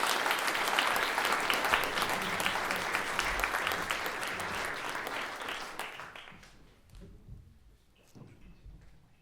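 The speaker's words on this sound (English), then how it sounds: "Can you give him a round of applause?" A live show audience applauds a departing guest speaker on stage, a dense, loud wash of clapping that holds steady for about six seconds, then thins out and fades to scattered claps.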